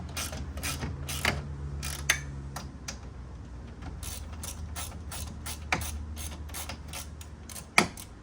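A ratchet tightens 12mm radiator bolts on a 2007 Kia Spectra during a radiator replacement, sounding as bursts of quick clicking with sharp metallic snaps scattered between them, close up with no talk.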